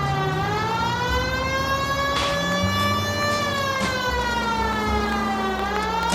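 A police car siren wails in the video game L.A. Noire, with steady rising and falling tones that are loud and continuous over engine rumble during a driving pursuit.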